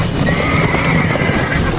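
Several horses gallop hard and neigh as a staged audio-drama effect, a loud, steady rush of hoofbeats with a sustained whinny riding over it and no talk.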